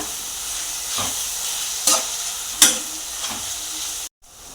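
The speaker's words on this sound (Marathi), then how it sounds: "मसाले आपण चांगले परतून घेऊया" Biryani masala and onion sauté in a pan over low heat for vegetable biryani, with a continuous gentle sizzle, a few sharp spoon knocks against the pan, and an abrupt cut to silence near the end.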